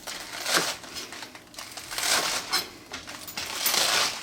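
A knife cuts through very fresh, crisp lettuce on a cutting board, giving several close, crunchy, crackling slices in uneven bursts with short pauses between them.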